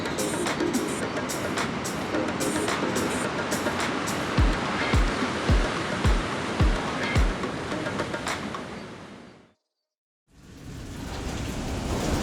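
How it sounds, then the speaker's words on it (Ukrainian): Stormy sea waves roar and crash against the Amalfi Coast shore in a constant loud wash, with several deep thuds in the middle, like gusts buffeting close by. "Я на березі штурмового моря."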